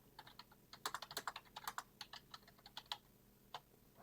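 Quick bursts of close, crisp keystrokes on a computer keyboard while an email address and master password are entered, with short pauses between runs of clicks.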